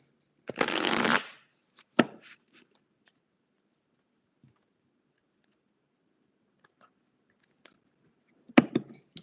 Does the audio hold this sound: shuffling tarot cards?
yes